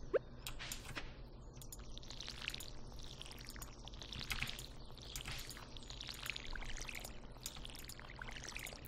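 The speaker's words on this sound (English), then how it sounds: "we also need to water our plants" In the Stardew Valley video game, a watering can pours over crop plants with a soft, repeated splashing and trickling, faint and even across several seconds.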